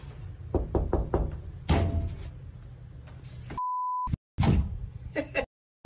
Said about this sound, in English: steps outside and knocks on the door himself